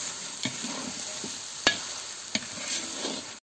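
Three and a half kilos of mutton fry with masala, onion, garlic and ginger in a hot pan, giving a steady close sizzle broken by a few sharp stirring clanks.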